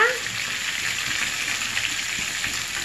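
Continuous hot-oil sizzling of a spice tempering frying in a pan, steady and close, with no talk.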